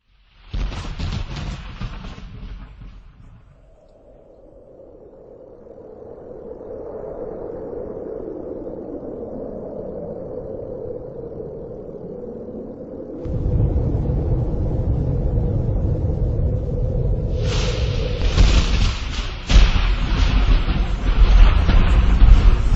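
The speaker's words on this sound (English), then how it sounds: "It all started with a tremendous explosion." A tremendous explosion over Siberia, the blast that flattened 2,150 square miles: a broad burst at the start fades into a low droning rumble, then heavy roaring noise swells and stays loud to the end.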